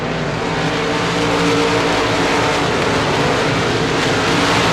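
USA Limited Modified race cars roar around the dirt oval at Devils Bowl Speedway. Several engines drone loudly and continuously at close range, with no clear pass-by breaks.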